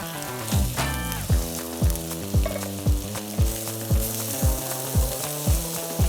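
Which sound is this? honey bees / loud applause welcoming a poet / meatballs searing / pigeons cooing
meatballs searing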